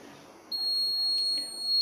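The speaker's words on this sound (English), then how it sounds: "alcohol detected, orange color LED, alarm is on" A steady high-pitched electronic buzzer from an alcohol detection alarm on a vehicle engine-locking project board switches on abruptly and holds a continuous tone, loud and close, over faint background noise.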